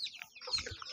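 Young chickens cluck in a quick, faint burst of short calls during a cold spell, lasting only a moment.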